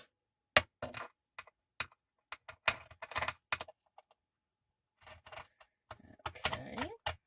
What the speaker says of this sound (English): We're going to cut just to the outside of that with our pinking shears.